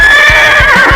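A horse neighs in the video game You Don't Know Jack 2011, one loud, close, wavering whinny that lasts about a second with faint hoof-like thumps beneath it.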